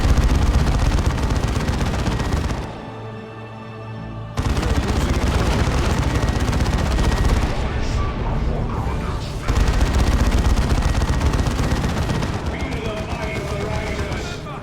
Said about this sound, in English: high explosive rockets are firing upon the Dreadnought, trying to get the splash down the scouts